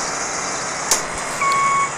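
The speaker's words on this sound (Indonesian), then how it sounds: "tidak bisa stabil jalannya truk ini" A truck runs with a steady, loud engine drone while a reversing beeper sounds briefly, with a short thump partway through.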